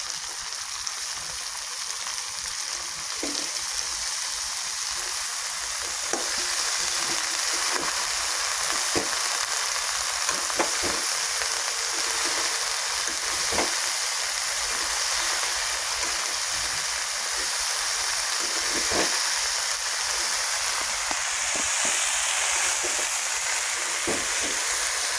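Potatoes, chickpeas and chopped bottle gourd shoots frying in a pan, a steady loud sizzle and hiss that runs unbroken, with faint scrapes and taps of stirring now and then.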